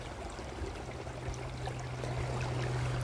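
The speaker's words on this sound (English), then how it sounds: "right next to the stream, right where the woods start in my backyard" A backyard stream at the edge of the woods flows with a soft, continuous watery rush under a low steady hum, mild and close, with no talking.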